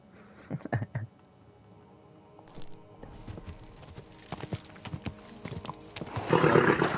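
Horse in the medieval game Kingdom Come Deliverance 2, with hooves clip-clopping in a steady rhythm and a loud neigh rising near the end, all fairly close with no talking.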